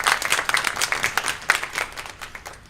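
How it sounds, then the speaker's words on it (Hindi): Audience clapping at an Urdu poetry event, a moderate crowd with individual claps distinct and rhythmic, tapering slightly toward the close. "इनके लिए ज़रा एक ज़ोरदार तालियां मेरे साथ आप बढ़ाएं"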